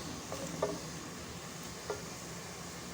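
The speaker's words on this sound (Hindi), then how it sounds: "ये प्याज है, 2 प्याज ली हैं, इनको हम फ्राई कर लेंगे" Two onions frying in a pan for biryani, golden and being crisped, give off a soft, steady sizzle, with a couple of faint scrapes of stirring breaking through.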